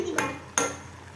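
Kalakand mixture is stirred in a pan, giving two sharp scraping clinks of a spoon against metal a short moment apart, close and fairly soft, with quiet between them.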